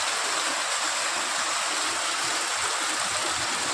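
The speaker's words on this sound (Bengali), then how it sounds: "চারোদিক দিয়ে যেদিকে গলি সেদিকেই জল আর জল" Floodwater rushing through village lanes after heavy rain, a steady loud broadband roar of flowing water with no pauses, close by and uninterrupted, with no voices.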